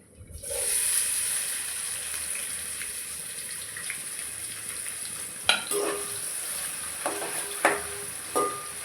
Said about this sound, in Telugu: ఇవి కొంచెం ఆయిల్లో ఫ్రై అయిన తర్వాత సన్నగా కట్ చేసిన ఉల్లిపాయలు అయితే వేసుకోవాలి